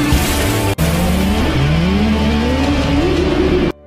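A motorcycle engine revs hard in an Indian film stunt as the bike rides along a steel cable, with rising whining pitch sweeps and a brief cut before it stops abruptly.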